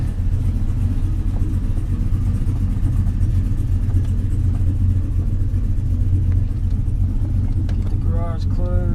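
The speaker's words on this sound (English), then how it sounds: "Going into reverse. Sneak down the driveway." A Trailblazer SS with a rebuilt performance transmission reverses slowly down a driveway, its engine holding a steady, close low rumble throughout, with voices talking briefly near the end.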